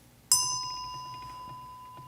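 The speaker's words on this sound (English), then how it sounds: "Bell sound" A single temple bell brought down from an upstairs altar is struck once before a Buddhist sutra lecture, a bright sudden strike followed by a long, steady ringing tone that slowly fades.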